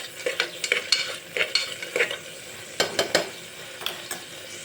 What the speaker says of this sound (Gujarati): ફ્રાય કરવાથી પુલાવનો સ્વાદ એકદમ મસ્ત આવશે, એટલે હું પનીરને ફ્રાય કરું છું